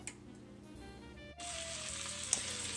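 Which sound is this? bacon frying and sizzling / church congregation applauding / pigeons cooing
bacon frying and sizzling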